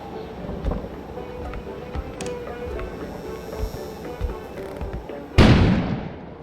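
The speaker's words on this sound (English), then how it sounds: "An explosion suddenly occurred outside." In the video game Kona, set in Canada, an explosion bursts outside with a sudden loud broadband blast late on, ringing off after a stretch of low ambient rumbles and scattered thuds.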